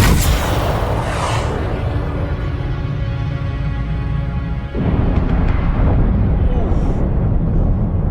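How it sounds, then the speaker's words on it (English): Rocket launcher blasts in the video game Dune: Awakening come as loud, rumbling booms with a rushing whoosh, one heavy detonation following another up close, while a voice talks over them. "He's a pretty good shot with a rocket launcher."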